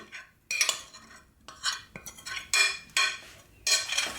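White chocolate scraped and mixed in a mixing bowl, a series of about six bursts of utensil scraping and clinking against the bowl, close and separated by short pauses.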